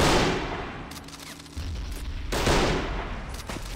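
Mortar and gunfire in a combat video game: bursts of loud rattling gunfire and booming blasts come in two heavy waves separated by a lower rumbling lull, with no voices.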